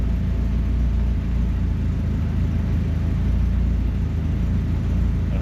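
A Nissan S14 200SX engine runs steadily just after starting, a loud close low rumble with constant droning whir and no revving or talking.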